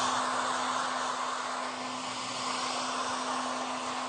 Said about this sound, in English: if you put the hair dryer too close to it, it'll push the material around when it's still wet